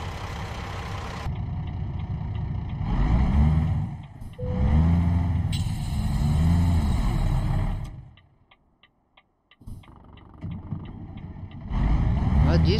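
A truck engine runs in American Truck Simulator, a loud low drone with rising revs that drops out midway and then resumes, with electronic beeps in the gaps.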